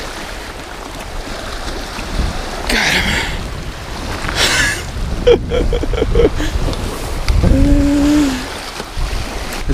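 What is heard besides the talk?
waves washing on the shore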